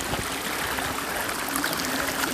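Water at Curug Kirai waterfall, running at low dry-season flow, gives a steady close hiss and trickle throughout, with no voices.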